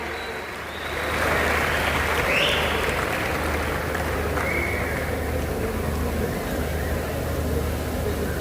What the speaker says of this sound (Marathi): मला वाटत नाही टाळ्या थांबल्या पाहिजेत.